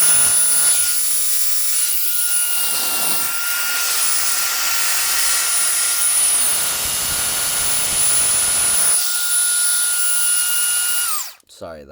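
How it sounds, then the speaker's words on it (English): Reikiya mini handheld cordless vacuum cleaner running loudly, a close, sustained high motor whine with rushing air that wavers slightly, then winds down sharply near the end with a couple of handling clicks. "right now it's on blowing mode, and suction is here, and the blowing is here"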